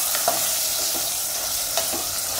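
Yogurt sautés with ginger-garlic paste for veg pulao, giving a continuous close sizzle broken by a few soft scraping strokes of a spoon.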